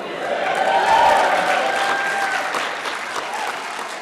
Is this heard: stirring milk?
no